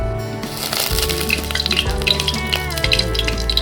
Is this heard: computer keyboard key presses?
no